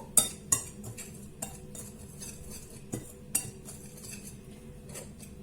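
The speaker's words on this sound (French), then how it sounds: "Je vais mettre mon parmesan. Je mélange le tout." A utensil stirs grated parmesan into zucchini tempura batter in a bowl, with sparse sharp clinks against the side spaced out over faint background hum.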